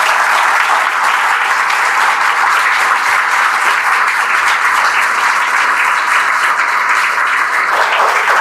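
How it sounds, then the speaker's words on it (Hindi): Loud, sustained applause from a large crowd at a motivational talk, a dense steady roar of clapping that fills the whole stretch without pause. "एक बार जोरदार तालियों स्वागत कर दें"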